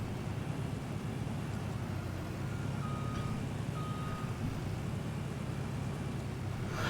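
A heavily loaded farm vehicle in Farming Simulator 19 reversing, a low steady engine rumble with a few faint high electronic reversing beeps sounding partway through.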